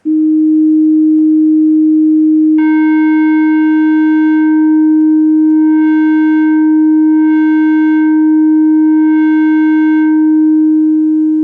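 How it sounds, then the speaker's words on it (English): A synthesizer holds a steady square-wave tone, a bright buzzy drone rich in stacked harmonics, sounding alone and continuous at a constant pitch with slight pulsing shimmer in the upper overtones. "But if I change the waveform to a square wave,"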